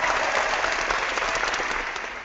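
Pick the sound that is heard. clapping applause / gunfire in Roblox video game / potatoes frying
clapping applause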